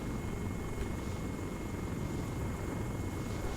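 A military aircraft in ARMA 3 drones on, a steady rotor-like engine roar with a faint fixed whine, even and unbroken throughout, no talk over it.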